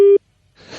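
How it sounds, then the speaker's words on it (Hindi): A telephone line cut off mid-call gives a steady beep of the disconnected tone, loud and brief, followed by silence and then faint noise. "वो टेलीफोन लाइन कट गई थी मेरे ख्याल से"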